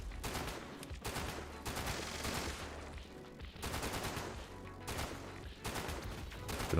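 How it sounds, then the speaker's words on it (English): A minigun fires in bursts in a video game, each one a dense, rapid, continuous roar lasting about a second or two, separated by brief pauses, loud and close with no talking over it. "It's a minigun."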